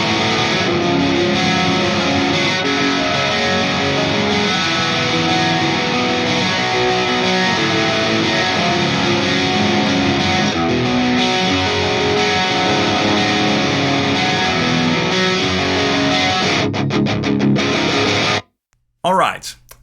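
Distorted electric guitar played through an ML Sound Lab Amped Triple Rev G amp sim on a Mesa Rectifier-style setup with a mega traditional cabinet and added chorus, loud and continuous with modulated shimmer, cutting off abruptly near the end.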